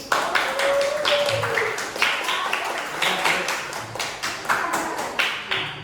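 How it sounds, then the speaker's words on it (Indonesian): Classroom applause for a group of fourth-grade pupils at an elementary school, a burst of scattered clapping and tapping that carries on steadily, with light background chatter from the children. "aplaus untuk kelompok auditori"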